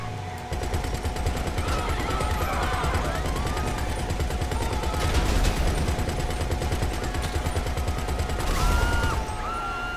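Video-game gunfire rattles in rapid automatic bursts, loud and continuous for about ten seconds, with sharper shots standing out near the middle and end and no talk.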